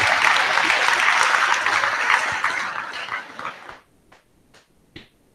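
Audience applause at a graduation ceremony, a sustained crowd ovation that tapers off and fades out, leaving a few scattered claps at the end.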